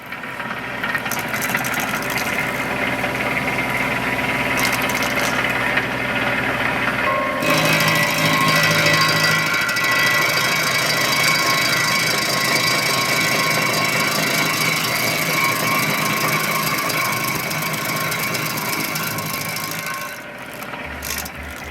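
A Baumalight 3P24 stump grinder on a tractor chews into a stump with a loud, continuous engine roar and rough grinding noise. The tone shifts partway through, then eases off near the end.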